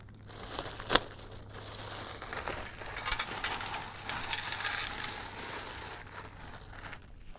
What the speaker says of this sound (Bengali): প্রথমে আমি চাউমিনগুলো একটা পাত্রের মধ্যে ঢেলে দেব।